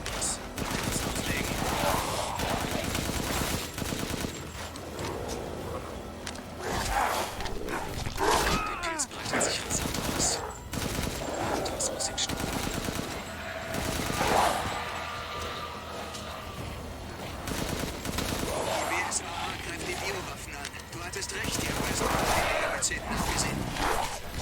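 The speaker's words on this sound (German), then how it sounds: "Einfach mal weit um sich schießen." Gunfire in Resident Evil Village, with bursts of shots and clattering mechanical effects running steadily through a long stretch of game audio, while someone talks over it throughout.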